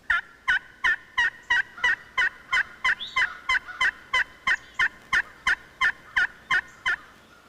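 A wild turkey hen calls over and over in a steady, evenly spaced series of about nineteen clear yelps, close and distinct with nothing else around them.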